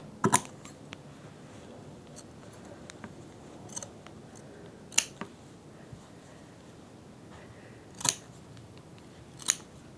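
Scissors snip through fabric around a machine-embroidered quilt-as-you-go trapunto piece, with a handful of sharp, close cuts spaced irregularly over a quiet room background.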